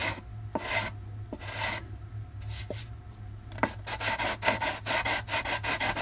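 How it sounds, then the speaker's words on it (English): Sandpaper rubs over tape on a plastic AMT U.S.S. Enterprise model kit in steady back-and-forth rasping strokes, close, with a low constant hum underneath and the strokes quickening toward the end. "you need to actually go a little under the tape with your sandpaper without cutting through the tape"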